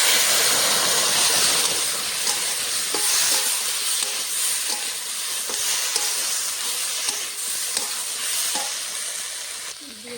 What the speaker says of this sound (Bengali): ভাজতে ভাজতে মশলাটা দিয়ে দেবো আদা জিরে কাঁচা লঙ্কা বাটা